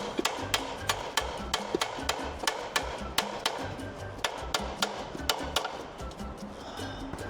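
A hammer taps a component into place during repair of a hoist's gearbox in a workshop: a series of sharp, close metallic knocks in an uneven rhythm, roughly two or three per second, over faint background noise with no talk.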